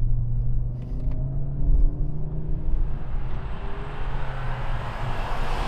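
Audi RS3 engine pulling under throttle through a corner, a steady low droning rumble with rising tone, heard from inside the car, no talk.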